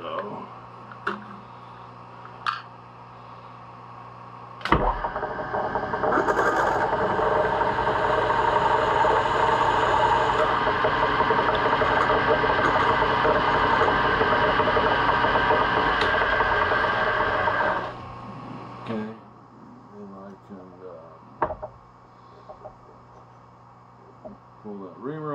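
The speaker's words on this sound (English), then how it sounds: "turn the spindle slower, I'm going to feed really slow" Heavy-duty knurling on a metal lathe: the spindle turns slowly under a slow feed, a steady loud grinding whir that starts abruptly and stops after about thirteen seconds, with someone talking before and after.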